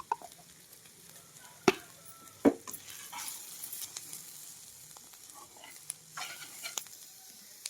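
Cumin seeds fry in a pan with soft, quiet sizzling, broken by a couple of sharp clinks and scraping stirs.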